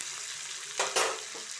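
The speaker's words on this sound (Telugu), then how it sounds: "బాగా మిరపకాయలు బాగా వేగి, కారం లేని మిరపకాయలు" Dried red chillies frying in hot oil, a steady close sizzle with a couple of brief louder bursts of crackle as they are stirred.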